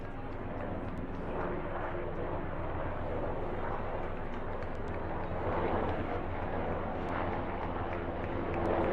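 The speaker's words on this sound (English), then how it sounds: "And now the helicopter flyover here at Capco Park." Helicopter flying over a baseball park during a college tournament game, a steady broad rotor and engine roar filling the whole stretch, loud and continuous, swelling slightly near the end.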